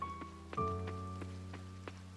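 Evening rain falls in the farming video game Coral Island, heard as soft, steady drops and light ticks that recur at an even pace beneath a faint sustained musical tone.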